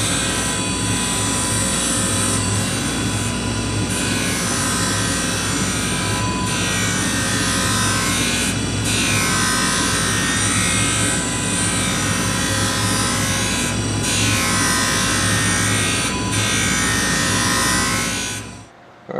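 A surface grinder wheel plunge grinding rust off an old level frame, a loud sustained whining roar with bright high tones that swell and fade in regular passes, ending abruptly.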